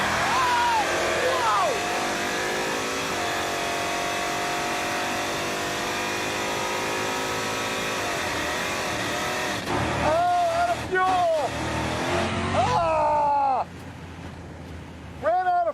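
A heavy Chevy Impala with a fuel-fed engine launches hard off the starting line, its loud engine note climbing and shifting through rising revs with brief breaks, while voices speak over it.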